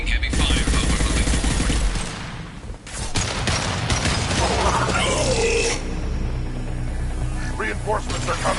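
Heavy gunfire in a Mass Effect-style squad shooter on PS4: dense bursts of automatic fire and weapon mechanisms, loud and near, under combat voices and game sounds.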